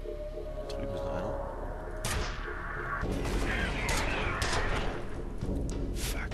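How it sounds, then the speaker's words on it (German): Gunfire in the shooter game F.E.A.R. comes as scattered sharp shots and bursts over a droning background of ambience and mechanical noise, fairly muffled and mixed with game sound. "nicht jetzt nachladen, wenn ich hier gerade schieße"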